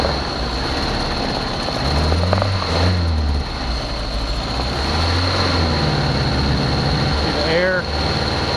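Old Volkswagen engine running after sitting unused for 19 years, a steady low rumbling idle with a faint whirring tone throughout, close by, under a voice talking.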